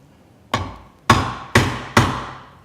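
Four sharp hammer blows on a Marples splitproof chisel driving into wood, spaced roughly half a second apart, each a crisp close knock with a short ringing decay.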